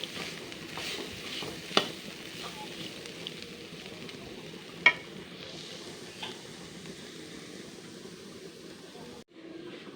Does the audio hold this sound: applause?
no